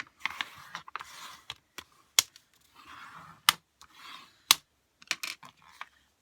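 Card being folded and scored, then cut with large craft scissors: a run of sharp, close clicks and snips separated by soft scraping and rustling passes, fairly quiet with no voices.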